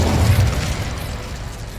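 An Incendio fire spell is cast in the video game Hogwarts Legacy, giving a dense, booming burst with a low rumble that holds steady for about two seconds.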